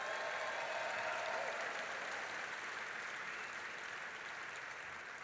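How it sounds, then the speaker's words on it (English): Sustained audience applause fills a large hall at a political event with President Biden at the Detroit Auto Show, a dense, steady clapping that stays loud throughout and eases only slightly toward the end, with no voices on top. "So another round of applause for Ray Curry."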